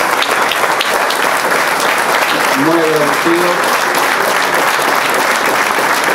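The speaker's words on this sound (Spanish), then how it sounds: "a quien le pediría un gran aplauso" Sustained applause from a crowd at a senior professional golf awards ceremony, dense and steady throughout, with someone briefly speaking over it partway through.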